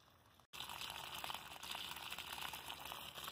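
Water gushes steadily from a homemade pump that runs without electricity, a continuous splashing flow that starts abruptly after a brief silence and holds at a fairly loud, close level.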